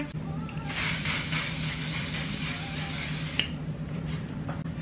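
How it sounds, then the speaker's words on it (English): A steady hissing spray of mattifying waterproof makeup setting spray runs for a few seconds, fairly close and even, with faint background hum and no talking. "set it in place with this one size On To Done mattifying waterproof setting spray"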